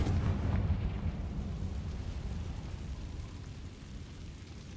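A blasting-spell explosion in the Hogwarts Legacy game: a deep rumbling boom that rolls out and slowly fades over a few seconds, heard alone without speech.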